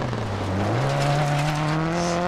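Rally car engine in DiRT 4 held at steady revs with a rising harmonic whine, broadband tyre and gravel noise throughout as the handbrake pulls it through a turn, loud and close.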